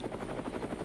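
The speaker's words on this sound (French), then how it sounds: "Il pilote un hélicoptère." Helicopter in flight, a brief burst of rhythmic rotor thudding over a low engine rumble, heard alone.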